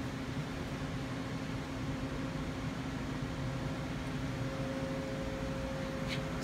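A Doosan Puma 2000Y CNC lathe with C-axis, Y-axis milling and tailstock spins at 4,500 RPM, giving a steady close machine hum and whine with a faint airy hiss and no talking.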